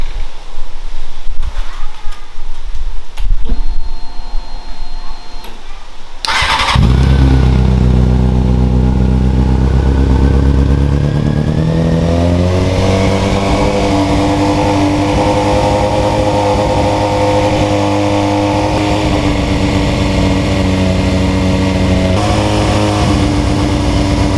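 A Honda CBR F4i motorcycle engine cranks with rough clicking, catches, and then idles loud and close with rising and falling revs, running steadily to the end.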